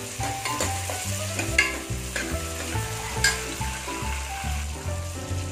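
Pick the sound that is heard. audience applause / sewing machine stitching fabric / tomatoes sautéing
tomatoes sautéing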